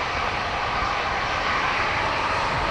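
Ryanair airliner engines at Dublin Airport give a steady, loud broadband roar that holds evenly throughout, with no voices over it.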